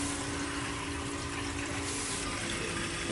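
Water flowing through the piping of a gas boiler heating zone as it runs, a steady rushing, hissing flow with a low hum beneath, constant and fairly close throughout.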